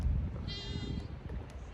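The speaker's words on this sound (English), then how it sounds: "There's a whole bunch of damn goats at the school." Goats bleat outdoors near a school, one wavering, nasal bleat rising out of steady background rumble and wind, moderately close.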